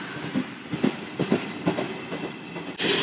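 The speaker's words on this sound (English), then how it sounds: "As the train's leaving, so am I." Older train leaving a station in Lucca, Italy, with rhythmic clunks of wheels over rail joints above a steady rolling rumble, fairly close and with no talk.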